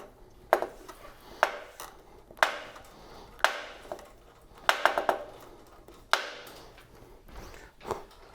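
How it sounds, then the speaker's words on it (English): Loctite 641 retaining compound sets in a bicycle bottom bracket, giving off a series of sharp creaking cracks and ticks at irregular intervals, moderately loud and close, with faint quiet between the pops. "it's actually the anaerobic process of the retaining compound setting"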